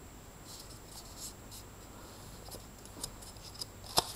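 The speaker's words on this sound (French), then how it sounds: "on va découper toutes les cartes des nombres" Scissors cut homemade paper playing cards into number cards, giving soft, faint snipping and rustling that grows a little sharper toward the end, with no voices.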